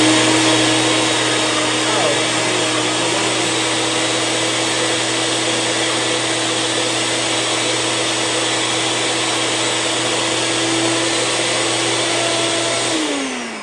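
A new blender running while making a berry smoothie, a loud, steady motor whine close by that holds for most of the clip, then winds down abruptly near the end.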